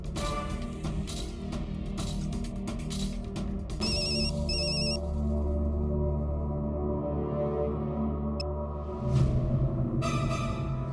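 A phone ringtone plays over a steady background hum, its electronic tones repeating in short bursts, moderately loud and close.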